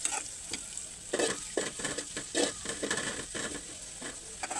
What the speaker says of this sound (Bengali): আর একটু ভালোভাবে ভেজে নিব।